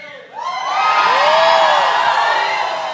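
A live show audience shouts, whoops and cheers loudly on cue, a dense crowd roar that swells and holds for a few seconds with no speech on top.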